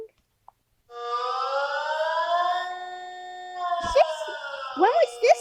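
High-pitched siren recording with rising and falling harmonic tones, steady at first and then sweeping in quick whoops toward the end, loud and clear with nothing else over it.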